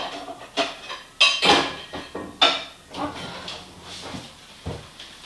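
A plate is picked up and set down while a bacon and cheese fougasse is served, giving a few sharp clinks and knocks at irregular intervals, close by, with quieter handling noise between them.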